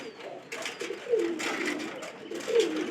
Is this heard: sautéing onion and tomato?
no